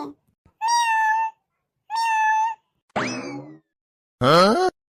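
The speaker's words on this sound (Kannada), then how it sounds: "ಎಲ್ಲಿ ಬೆಕ್ಕಿನ ಆವಾಜ್ ಕೇಳಿಸ್ಲಿಲ್ಲ?" A cat meows four times up close, loud, drawn-out calls separated by short silences.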